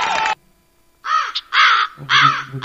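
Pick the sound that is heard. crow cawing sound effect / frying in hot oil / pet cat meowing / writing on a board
crow cawing sound effect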